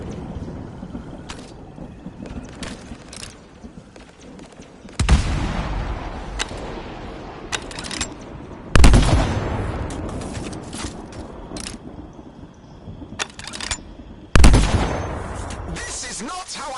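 Enemy gunfire in the Anthem video game, a series of sharp, loud bursts and heavy impacts over a constant rumbling battle backdrop, with several strong blasts spaced a few seconds apart.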